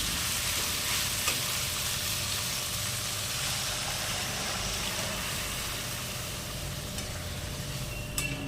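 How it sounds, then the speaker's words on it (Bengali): A fish head sizzles and fries steadily in oil in a pan while being stirred, a continuous bright crackling hiss with a few faint scraping knocks from the spoon and no talk. "মুড়োটা নেড়ে নিয়ে ভালো করে"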